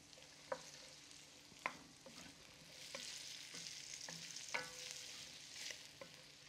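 Andouille sausage fries in a pan with a quiet, even sizzle, broken by a few sharp utensil clacks and scraping stirs at irregular intervals; no voices.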